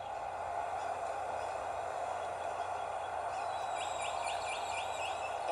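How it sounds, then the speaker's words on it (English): At dawn in Texas, birds chirp and sing faintly in the distance in short repeated phrases over a steady low hum of background noise. "The birds are all singing because it's dawn, twilight."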